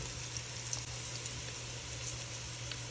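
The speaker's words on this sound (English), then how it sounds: "So this is frying very beautiful." Onion, ginger and garlic frying in hot oil for a curry goat, a steady soft sizzle and bubbling hiss continuing evenly throughout, faint and close with no talking.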